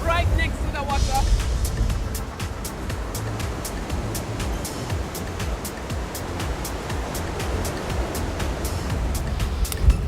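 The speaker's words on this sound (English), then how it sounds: "Listen to the sound of the waves." Ocean waves wash onto the shore at Corralejo in the Canary Islands, a steady, dense rushing surf that fills the whole stretch, with a brief voice near the start.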